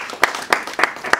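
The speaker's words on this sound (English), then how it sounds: "Let's clap for everyone who has spoken." An audience at a counter-human-trafficking forum in Rwanda claps together in a slow, even rhythm, with four sharp, loud group claps evenly spaced over a light background murmur.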